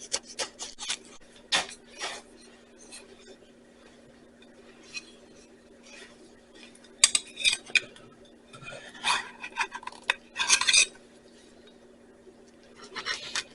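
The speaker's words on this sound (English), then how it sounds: "Let's go ahead and cut a piece." A knife cuts into a baked pecan pie with a cream cheese layer, giving soft scraping and rasping strokes with a few light clinks against the dish, close by and intermittent, with pauses between the cuts.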